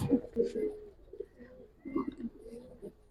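Silver Giribaz pigeons coo in several soft, throaty bursts separated by short pauses, close by, with faint talk in the background.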